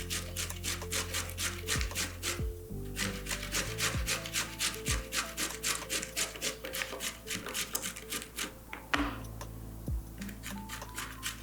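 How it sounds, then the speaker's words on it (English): Baby marrows rubbed against a hand grater make a quick, even run of close scraping strokes that repeats in a steady rhythm, with no talking over it. "So now we're grating our baby marrows."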